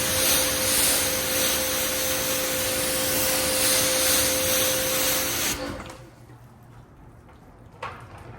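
A loud, steady spray of water rinsing a car hisses for several seconds, then cuts off abruptly, leaving a quiet background with a brief clatter near the end.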